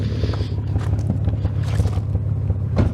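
A Nissan 300ZX engine idles steadily just after its first start, a continuous low rumble with a slight lope, close and alone throughout.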